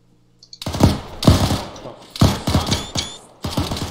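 Gunfire in Arma 3 as a firing squad executes prisoners: several sharp, loud, close rifle shots in an uneven volley, each with a ringing tail, starting after a brief quiet.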